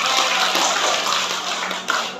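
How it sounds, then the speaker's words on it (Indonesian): An audience at a school psychology-test seminar claps together, a dense burst of applause filling the short moment with steady hand-clapping that tails off near the end. "Sekarang tepuk tangan dulu dong untuk kita semuanya"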